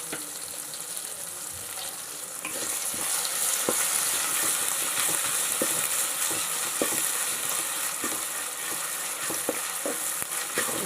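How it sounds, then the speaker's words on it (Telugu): Ginger garlic paste frying with softened tomatoes in a pan, a steady close sizzle that swells louder after the first couple of seconds, with occasional stirring scrapes and light clicks throughout. "పచ్చివాసన పోయే వరకు ఫ్రై అవనివ్వాలి."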